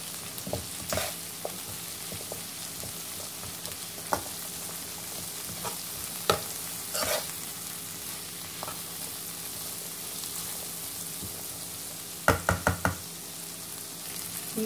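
Red and black pepper being stirred into sausages frying in a pan, a low steady sizzle with scattered scraping stirs and a quick run of sharp knocks of a spoon on the pan's rim near the end.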